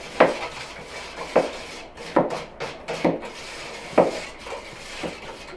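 A spoon scrapes and clinks against the inside of a container in irregular strokes, stirring soda into cold water, with short rubbing sounds and brief pauses, close by.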